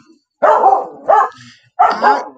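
A pet dog barks three times close by indoors, loud sharp barks spaced about half a second to a second apart, with no talk over them.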